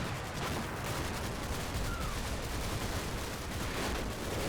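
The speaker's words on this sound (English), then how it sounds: "our mortars are starting to fall in this town" Mortar and gunfire in the video game Combat Mission: Battle for Normandy, heard as a dense, distant crackle of small-arms fire with muffled booms under a constant wash of battle noise.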